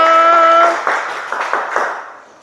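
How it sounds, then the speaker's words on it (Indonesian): Several claps from a schoolchildren's class in an Indonesian primary classroom, a short scattered burst of hand claps following a held tone, fading out after about two seconds. "Tepuk tangan untuk kita semua."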